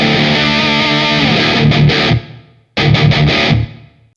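Smart guitar run through a reverb effect: a loud sustained distorted chord rings and fades into a lingering tail, then a second chord with quick rhythmic strums follows and decays away.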